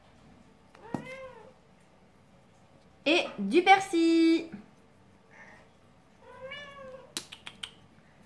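A house cat meows several times indoors in a kitchen, short clear cries spaced apart, with a person speaking briefly in between.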